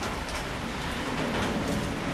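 Rain falls steadily over Jeddah, a dense, even hiss of drops with no pauses and no voices.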